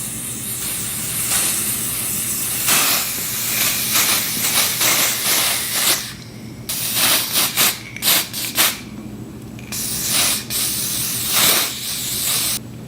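Hair spray sprays onto a wig in repeated hissing bursts, some long and steady, others short and rapid, close and fairly loud with no talking.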